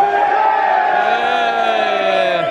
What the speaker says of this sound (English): Ironic cheers for a poor free kick.